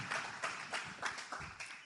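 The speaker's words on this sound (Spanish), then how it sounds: "Denle un fuerte aplauso a Jesús." A congregation at a church service claps in a quiet, distant rhythm, about six soft evenly spaced bursts.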